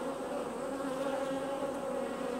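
Honey bees drone around their hive in a continuous, even buzz, a dense layered hum with no voices.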